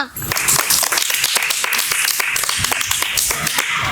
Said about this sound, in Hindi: अगर आपको अयान का कलाम अच्छा लगा हो तो तालियां